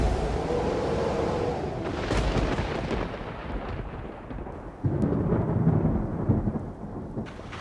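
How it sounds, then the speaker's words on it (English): Arizona monsoon thunderstorm: deep rolling thunder rumbles over steady heavy rain, with a second loud crack and rumble midway, the downpour hissing throughout. "those beautiful monsoon thunderstorms"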